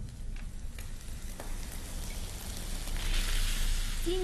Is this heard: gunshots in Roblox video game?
no